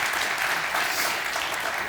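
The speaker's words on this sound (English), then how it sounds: "Let's give these four here a warm round of applause." Audience applause for a panel of four at the CeBIT Global Conferences 2013, a steady dense clapping that fills the whole moment without any talk.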